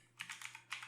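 Typing on a computer keyboard, a quick run of faint, close key clicks in a short irregular burst with a brief pause before a final pair of taps, no talk.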